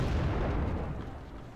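A Leclerc tank's cannon fires in a video game, leaving a heavy, deep rumbling boom that fills the moment and slowly decays, loud and close.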